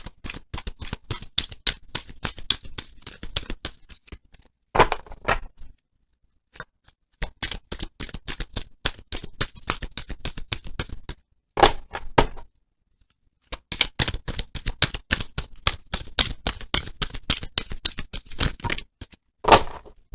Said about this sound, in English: I find these cards a little slippery, hard to shuffle singly.